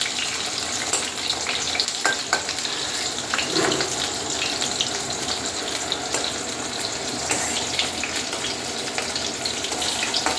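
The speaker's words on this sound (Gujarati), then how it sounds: "અને ડુંગળી થોડી ફ્રાય થાય" Onions sizzle steadily in a pan, a dense, even crackle that stays close and constant, with occasional scraping stirs.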